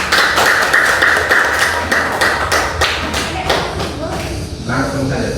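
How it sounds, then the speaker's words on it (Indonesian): A classroom gives applause for a student named Jaki, a burst of dense, rapid clapping that thins out over several seconds, with voices talking over it. "Tepuk tangan untuk Jaki dulu."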